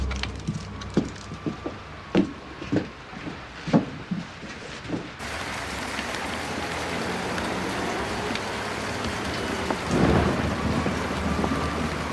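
Heavy rain pours steadily with thunder, a series of sharp cracks and thumps in the first seconds giving way to a dense continuous roar with a low rumble swelling near the end.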